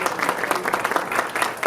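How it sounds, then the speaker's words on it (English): A short burst of applause from an audience at a Harbor City, Maryland chapter gathering, steady moderate clapping without talk. "Please give them a round of applause."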